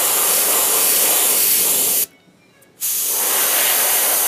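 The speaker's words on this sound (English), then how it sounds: "we're going to take this black and we're just going to spray some" Two long hissing bursts of black spray paint, loud and close, separated by a brief pause of near silence.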